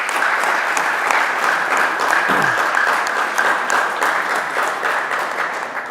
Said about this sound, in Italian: li invitiamo anche a fare un applauso per farsi sentire